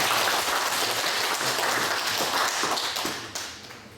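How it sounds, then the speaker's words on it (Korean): A church congregation at a thanksgiving service claps in warm appreciation, a dense patter of many hands that holds steady and then thins out and fades toward the end. "박수 한번 좀 부탁드립니다."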